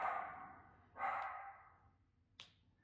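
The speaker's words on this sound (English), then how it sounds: "there goes the dogs barking at God only knows what" Dogs in a house bark in two sharp, fading bursts about a second apart, followed by a brief snap-like click, fairly faint and heard alone without talk.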